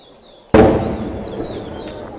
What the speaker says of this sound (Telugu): ఈ బాంబుల మోత వినిపిస్తుంది అనుకుంటాను మీకు.